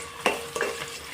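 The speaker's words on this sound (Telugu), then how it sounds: "ఆనియన్ ముక్కలు, అలాగే పచ్చిమిర్చి ఈ ముక్కలను వేసుకొని ఫ్రై చేసుకోండి." Onion pieces and green chillies frying in a pan: a brief close sizzle with two or three quick stirring scrapes.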